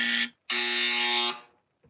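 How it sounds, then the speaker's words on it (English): A loud electronic trivia-game buzzer sounds twice, a short burst followed by a longer steady blare of about a second, with a faint trailing noise afterward. "I got to get a better buzzer."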